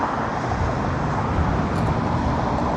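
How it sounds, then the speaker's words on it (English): A steady, loud roar of heavy highway traffic, with the rumbling engine drone of an unhealthy, overly loud bus that stays constant throughout. "that bus is not healthy, bro. It is way too loud."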